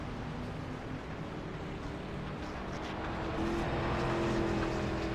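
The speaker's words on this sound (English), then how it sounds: "That car sounds sick. Got to have lots of damage to that motor there." A rough, uneven race car engine, damaged in a wreck during a race at Pocono, drones at a distance, its tone ragged and labouring beneath a wash of steady background noise.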